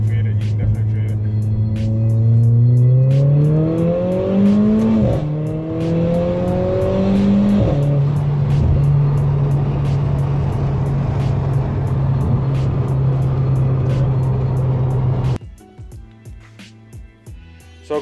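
Remapped Mercedes A45 AMG running on a dyno, loud and close, revving up in rising sweeps and then holding a steady high drone before cutting off abruptly, followed by quieter rattles; voices are heard talking in the background.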